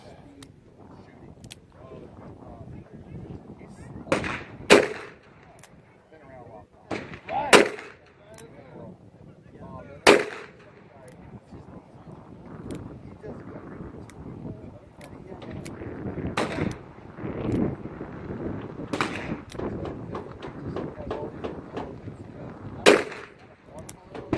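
Gunfire at an outdoor shooting range: a series of sharp, loud single shots spaced a few seconds apart, some nearer and louder than others, under a steady rumble of wind and background noise.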